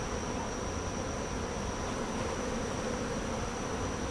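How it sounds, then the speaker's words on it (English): A swarming honeybee colony leaving a hive in trees during a beekeeping inspection, giving a steady, dense buzz of many bees that fills the whole clip without a break, with no talking. "one of the hives is definitely swarming"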